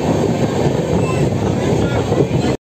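The Viswabharati Fast Passenger train from Howrah to Bolpur runs at speed, heard from inside a second-class sitting coach as a loud, steady rumble and rattle that cuts off abruptly near the end.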